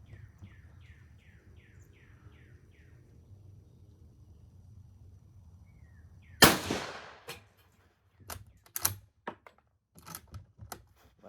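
An 1893 Turkish Mauser rifle fires at an outdoor range, with one loud sharp shot followed by bolt-action clicks and clatter, after faint bird calls in a quiet background.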